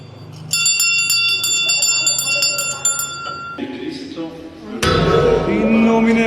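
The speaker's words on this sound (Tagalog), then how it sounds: "Ngayon tayo nakagamit ng gandang doorbell. Napaka-unique." A distinctive bell-type doorbell rings repeatedly with bright metallic tones at a delivery stop, followed by a different chime or bell burst, with background noise and some voices around it.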